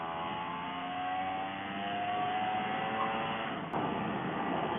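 Vespa PX 125 scooter fitted with a Barone 230cc conversion, accelerating into a strong headwind, its engine note rising steadily in pitch under wind rush, with a brief gear-change dip near the end.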